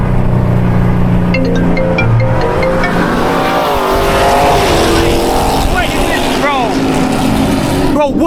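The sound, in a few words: fast truck racing cars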